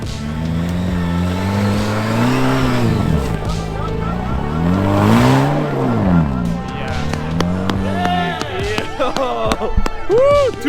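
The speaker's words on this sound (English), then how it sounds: "if you guys are wondering what that exhaust note is, that is the 2-liter turbo. It's got a nice little backfire to it" Two-door Jeep with a 2-liter turbo engine off-roading in snow, its exhaust note rising and falling in loud revving sweeps with crackling pops of backfire toward the end, voices shouting over it.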